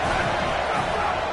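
Stadium crowd at a college football game, a dense, steady roar of cheering voices filling the whole clip at even loudness without pauses.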